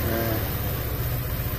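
A 2021 Yamaha Nmax 160 scooter engine with a faulty rocker arm runs close up, giving a loud continuous buzzing drone with a rapid rough pulsing throughout and no voices.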